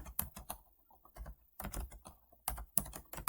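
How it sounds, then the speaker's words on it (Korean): Computer keyboard typing while an Arduino sketch is coded: close, crisp key clicks come in quick irregular bursts with short pauses between them. ".h를 타이핑합니다."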